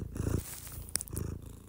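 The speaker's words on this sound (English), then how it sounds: "Some purring." A cat purrs close up, a soft rhythmic rumbling in two stretches separated by a brief pause, quiet and alone.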